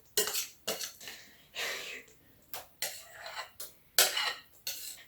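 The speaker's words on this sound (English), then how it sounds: "Now you stir your banana stuff with your wet stuff." Mashed bananas being stirred into wet ingredients in a bowl for banana bread, a series of irregular scraping clinks of a utensil against the bowl, close and fairly quiet.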